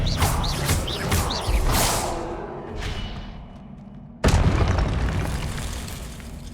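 A Confringo fire spell explodes in the Hogwarts Legacy video game, with several booming blasts and whooshes in quick succession, then a sudden loud burst followed by a rumbling tail.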